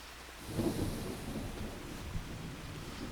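Distant thunder rumbles low beneath steady rain in the Farming Simulator 25 video game, swelling briefly then settling into a continuous soft wash.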